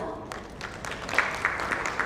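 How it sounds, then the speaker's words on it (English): Short burst of audience applause at an insurance industry summit and awards ceremony, scattered hand claps at moderate distance, fairly faint and thin. "Please welcome Mr. T.A. Ramalingam with the usual applause"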